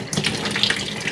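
A utility sink faucet runs with a steady splashing stream of water for a brief moment, close and moderately loud.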